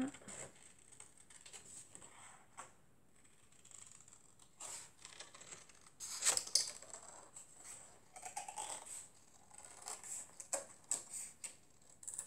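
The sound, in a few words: scissors cutting out a paper circle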